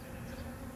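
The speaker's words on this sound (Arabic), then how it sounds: "شوف كثافة النحل ما شاء الله" Honeybees buzz steadily around an open beehive in a dense colony, a faint, even drone of many wings with no voice heard over it.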